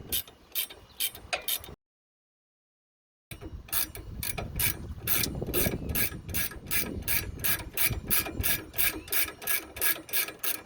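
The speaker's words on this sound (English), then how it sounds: "If y'all don't have a set of ratchet wrenches, then y'all need to get yourself some." A ratchet wrench clicks rapidly and evenly while turning a shock nut on a Ford Lightning pickup, with a short silent pause before the fast ratcheting resumes close by.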